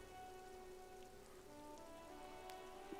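Steady rain falls throughout a scene in the video game Disco Elysium, an even wash of drizzle with a faint droning tone beneath and a couple of small tapping sounds near the end, no voices.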